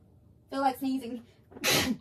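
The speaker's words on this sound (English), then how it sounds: "I said, I feel like sneezing." A single sharp sneeze bursts out right after a brief bit of speech, close and loud.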